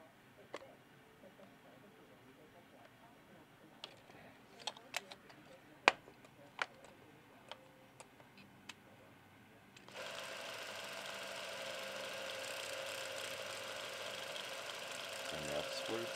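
Bolex film camera's spring-wound movement running at 24 frames, a steady fast mechanical whir that starts abruptly after scattered clicks and ticks and continues evenly, close and fairly quiet.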